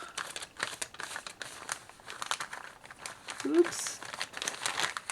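Small purple Ikea packaging bags being unwrapped, giving continuous close-up plastic crinkling and rustling with a few sharper crackles, while someone talks briefly over it.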